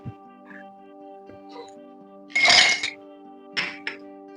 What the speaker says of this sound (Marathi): इथे आपण दोन ग्लास घेतलेत ह्याच्यामध्ये आपल्याला पण कसं बनवायचं ते आपण बघतोय आपण इथे बघा बर्फ टाकलाय